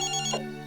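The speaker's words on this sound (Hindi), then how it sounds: "ओ रज्जो, फोन में नहीं उठाती, पता नहीं कहाँ चली गई है।" A telephone rings with a short electronic tone, close and clear, heard alone without any talk.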